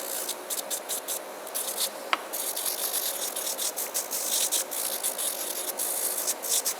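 A Melodysusie Scarlet nail drill with a tungsten bit runs at low speed around 500 RPM, lightly brushing a nail, giving a steady close scratchy whir with rhythmic rasping pulses and no talk.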